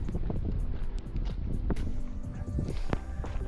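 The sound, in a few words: strong wind blowing during ultra marathon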